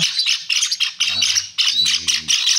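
Pet canaries, Gouldian, zebra and Java finches chirp and tweet loudly and close by during hand feeding, a busy overlapping chorus of short calls and squawks.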